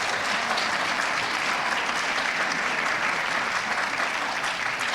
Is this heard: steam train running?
no